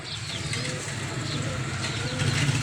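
Soft, low pigeon cooing repeats steadily close by, with a faint rustle of feathers and no talking.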